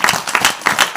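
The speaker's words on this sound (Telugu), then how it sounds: "చప్పట్లు కొట్టరే" A church congregation claps in a quick burst, scattered hand claps from many people overlapping in an uneven rhythm, moderately loud and close.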